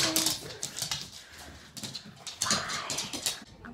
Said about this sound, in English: I'm not too sure what's wrong with my dog right now